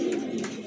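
A pigeon at a fancy pigeon loft gives one short, low coo, close and fairly loud, ending in a sudden knock.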